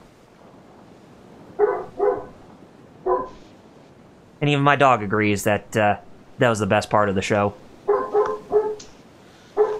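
A pet dog barks in a run of loud, close yips and woofs, several short bursts in quick succession, while someone speaks briefly before the barking.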